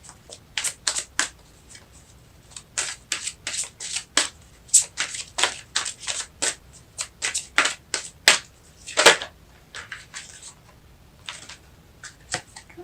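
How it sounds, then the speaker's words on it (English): Fairy oracle cards being shuffled and dealt by hand, a run of crisp riffling flutters and snaps in quick irregular bursts, close and clear over a quiet room with no talking. "I'm just going to get the fairy cards dealt"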